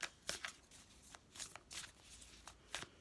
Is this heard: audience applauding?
no